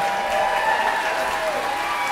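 Audience applause for a folk band after a cover, a steady wash of clapping from a crowd throughout, fairly even in level with no clear break.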